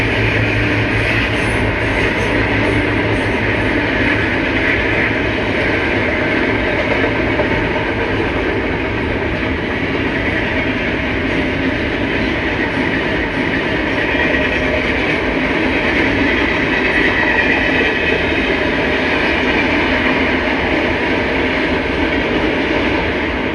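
An eastbound Santa Fe train departs and rolls over a bridge east of town, a loud, continuous rumble of wheels and cars with faint clickety-clack, sustained close by and steady throughout, no voices.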